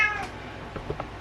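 A pet cat meows in a home kitchen, one bright, close call at the start followed by a few softer, shorter chirping mews, with no talking over it.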